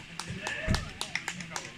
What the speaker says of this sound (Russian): Поактивнее хлопаем